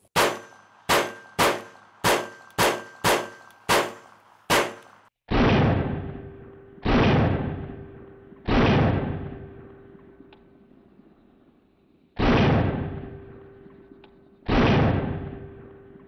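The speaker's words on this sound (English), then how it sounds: "I'm kind of dying to put some rounds through this" Gunfire from a Beretta/Wilson Combat 92G Centurion Tactical pistol at a target range: a quick string of seven sharp shots, then five louder, booming shots spaced apart, each ringing out with a long decay. Close and loud, with no talk.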